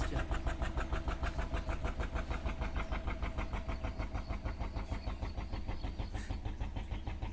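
A forest department ship passes in the Sundarbans mangrove forest of Bangladesh, its engine thumping in a fast, even, steady beat that stays loud and close throughout.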